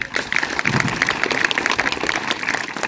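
An audience at a school welcoming ceremony for child scientists gives a teacher a round of applause, dense, lively clapping from many hands lasting the whole stretch.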